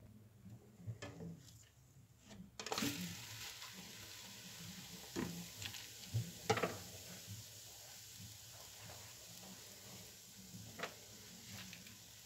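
A thin crêpe cooks in a pan with a faint, even sizzle, punctuated by scattered clicks and scraping knocks over a quiet background.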